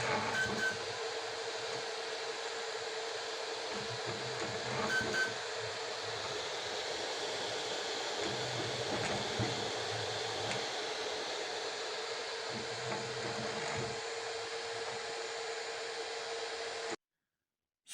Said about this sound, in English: So I expect that soon the printing process will be done.